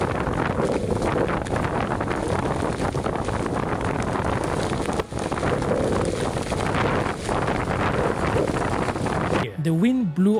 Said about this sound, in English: The gusts were so strong, the vehicle started shaking.